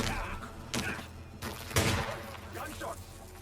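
Several sharp gunshots from Hitman 3 ring out in quick, irregular succession, fairly close and punchy, with short gaps of quieter background between them.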